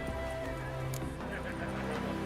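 A horse neighs and whinnies in the video game Witcher 3, with hoof clip-clop and a steady game soundscape in the background, close and clear.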